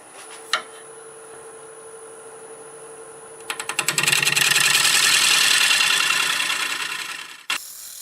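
A wood lathe turns a wild cherry bowl with cracks filled with CA glue as a carbide tool cuts, a loud sustained scraping roar for about four seconds after a quieter whine with a few clicks.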